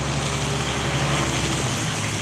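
A garbage truck rumbles past on a local street, its steady low engine drone and road noise holding at an even, fairly close level throughout.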